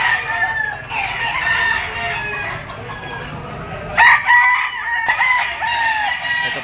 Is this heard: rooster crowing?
yes